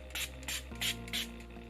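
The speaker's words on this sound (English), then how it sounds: "I picked up the Conceal and Define Infinite setting spray from Revolution" Revolution Conceal and Define Infinite setting spray misted onto an arm in four quick hissing bursts, close and fairly quiet, with a low steady hum underneath.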